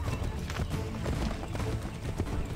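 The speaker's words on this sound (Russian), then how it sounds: "Чертова лошадь." A horse gallops in the video game Assassin's Creed 3, its hoofbeats a continuous, rapid clip-clop heard close and steady throughout.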